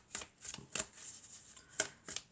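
Tarot cards being shuffled by hand, a quick series of crisp riffling bursts about half a second apart, close and fairly quiet with no talking.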